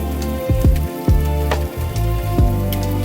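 Rain falls steadily on a night city street, a soft patter running beneath a prominent lofi music track with deep sliding bass notes.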